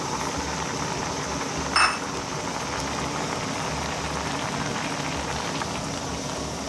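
Fig jam with added sugar simmers in a pot with a dense, steady bubbling hiss, close and continuous, broken once by a brief clink near the start.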